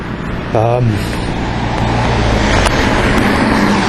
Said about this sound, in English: There's a loud bike